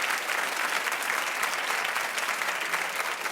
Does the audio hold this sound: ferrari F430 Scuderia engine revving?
no